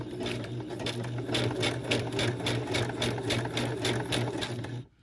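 A sewing machine stitches over yarn guided under the presser foot on a junk journal page, a steady rapid mechanical chatter with a low hum, close and constant for about five seconds before stopping abruptly, no voices.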